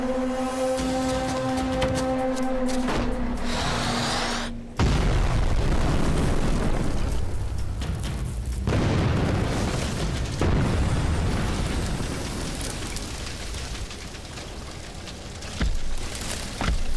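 A Playmobil fire-scene explosion: a sustained humming tone cuts off into a sudden loud, broadband blast. A long, rough rumble follows, then several smaller bursts.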